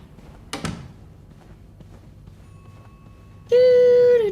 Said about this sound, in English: That ringing. Sounds like the elevator doors are jammed.